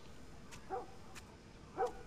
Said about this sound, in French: le chien qui gueule là